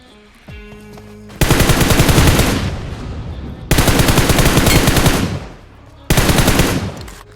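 Automatic gunfire in the mobile battle royale game BGMI (PUBG Mobile), three long loud bursts of rapid shots separated by short pauses, with a faint click and thud before the first burst.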